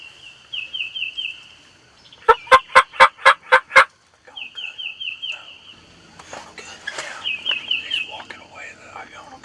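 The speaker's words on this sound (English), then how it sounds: "You can hear the hens still in the background." Wild turkeys gobble loudly in a sharp rapid burst during a Tennessee spring hunt, with higher trilling calls before and after, and softer hen calls carrying on in the background.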